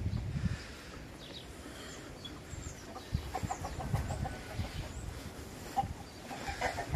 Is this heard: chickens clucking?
yes